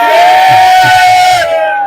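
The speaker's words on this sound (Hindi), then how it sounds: "तो एक दफा जोरदार ताली" Rally crowd of political party supporters roaring and cheering loudly and continuously, dense massed voices close up with a sustained wailing tone running through, fading slightly at the end.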